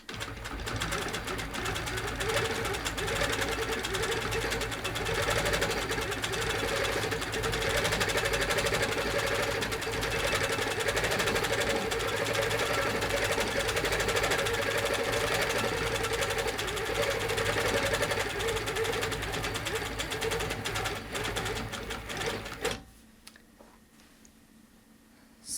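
A longarm quilting machine stitches a small quilting pattern with handles lowered, producing a loud, steady mechanical whir with fine rapid ticking that runs continuously, then stops abruptly near the end.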